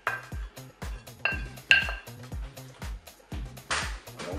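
Potato salad with peeled hard-boiled eggs being mixed in a salad bowl, a spoon clinking and scraping against the bowl in a steady series of soft, close knocks with a brief brighter scrape near the end.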